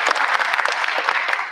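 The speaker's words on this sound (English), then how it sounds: "we give your sister and yourself a big round of applause for providing the masks" Audience at a high school spring concert applauds a masks donation with a brief burst of dense, fairly loud clapping.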